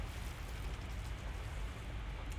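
Rain falls steadily during a storm aboard a ship in the video game Sea of Thieves, a dense, continuous patter at low level with no talking.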